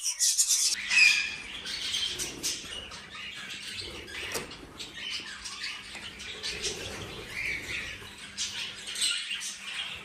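Pet budgerigars chirp and squawk, with sharp high calls at the start and then steady chatter and tweets that run throughout, close and fairly loud.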